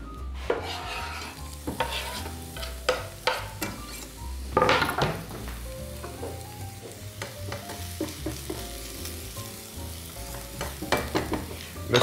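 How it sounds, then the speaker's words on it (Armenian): Chopped onion and other vegetables frying in vegetable oil, sizzling steadily while a utensil stirs and scrapes the pan with frequent clinks and knocks of metal against cookware. "Բանջարեղենը տապակելու եմ բուսայուղով"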